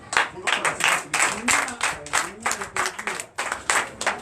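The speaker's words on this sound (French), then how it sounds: "Vous allez commencer à entendre l'applaudissement que le prophète est sorti." Congregation at a Sunday church service in Comé, Benin, clapping as the prophet comes out: a steady, rhythmic run of many hands clapping together, fairly close and continuous.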